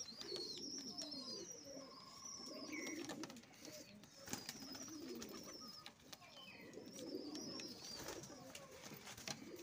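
Pigeons coo repeatedly at close range, the soft low calls recurring across the whole stretch along with some higher chirps and bird noise, at a long-established pigeon keeper's loft with prized fancy pigeons.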